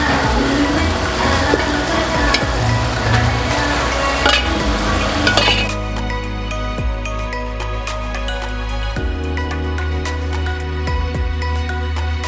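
Fried tuna pieces are tipped into pickle masala bubbling in hot oil, giving a loud crackling sizzle with clinks and stirring scrapes that then settles into a quieter, steady fry.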